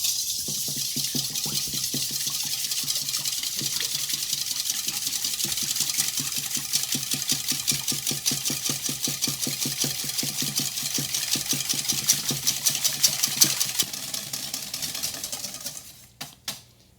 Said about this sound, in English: I'm going to whisk my eggs and my milk